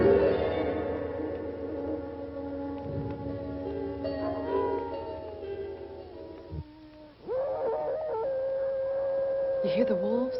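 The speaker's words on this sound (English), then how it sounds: "You hear the wolves?" Wolves howl in an old movie, long sustained wailing howls layered together, then a single clear rising howl near the end, with faint talk underneath.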